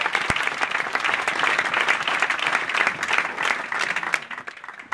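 Sustained applause fills a church during a Sunday worship service, steady and fairly loud throughout with dense, continuous clapping from the congregation.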